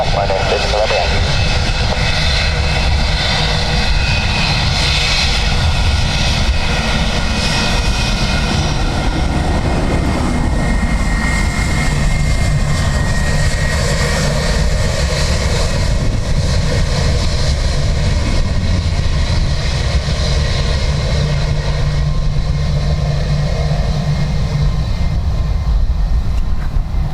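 An airplane lands at Dublin Airport on runway 28 left in a gusty crosswind, its loud engine roar running continuously throughout and swelling then easing, with talk over it.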